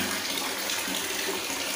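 Water gushing steadily from an automatic faucet into a bathtub, a continuous close hiss of running water as the tub refills.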